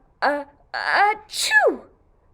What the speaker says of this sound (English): when he sneezed, he burnt all the toys